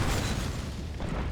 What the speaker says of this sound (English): Firing a ballista is simple.